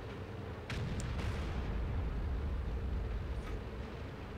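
A Pershing tank cannon fires on the move in the World of Tanks video game, a sudden loud blast followed by a sustained low rumble that carries on to the end.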